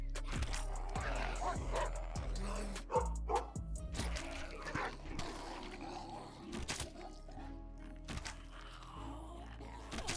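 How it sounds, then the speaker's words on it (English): A dog barks repeatedly in a zombie survival video game, sharp irregular barks and yips with thumps and game noise around them, fairly close and loud. "No, don't bark at him."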